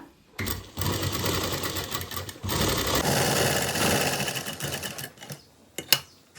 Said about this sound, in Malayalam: എന്നിട്ട് നമുക്ക് ആദ്യം താഴത്തേക്ക് ജസ്റ്റ് ഒന്ന് സ്റ്റിച്ച് ചെയ്ത് അവിടെ സെറ്റാക്കി വെക്കാം കേട്ടോ.